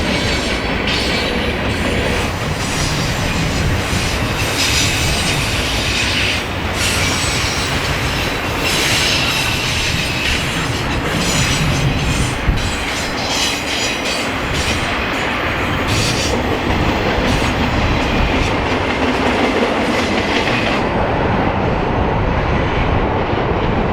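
A long Union Pacific freight train rumbles steadily past up close on the Portland Subdivision, loud broadband rolling noise with rail clatter and occasional faint wheel squeal, continuous throughout.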